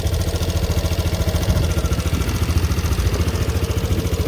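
A 2016 Piaggio Medley 125 scooter engine idles steadily up close, a rhythmic, even putter with a light mechanical clatter and no talking.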